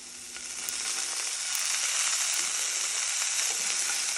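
Capers crackle and sizzle in a hot pan for chicken piccata, a steady, dense hiss that swells slightly partway through and holds, close up with no talking.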